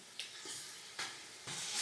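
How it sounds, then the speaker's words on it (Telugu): Medium-sized mutton pieces fry in oil with a soft, continuous sizzle that rises in a few stirred bursts. The sound is fairly quiet and close. "దీన్ని కూడా మంచిగా నూనెలో వేయించుకోవాలి."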